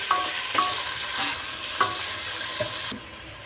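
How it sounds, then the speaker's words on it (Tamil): Sliced onions sautéing in a pan while cooking coconut milk rice, with a steady close sizzle and frying hiss and several sharp stirring scrapes at irregular intervals, no talk. "வெங்காயம் சேர்த்து அப்படியே வதக்கிட்டுக்கலாம்"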